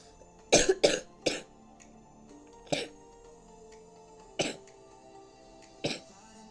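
Several short coughs, a quick burst of three and then single coughs spaced a second or two apart, fairly close against a quiet background hum.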